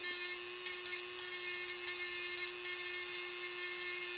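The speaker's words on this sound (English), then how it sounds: "It's a very easy tool to use, and this has a sandpaper bit on it." Rotary pet nail grinding tool fitted with a sandpaper bit, run against an old wooden coffee table, giving a steady high-pitched whine that stays loud and even throughout, with no talk.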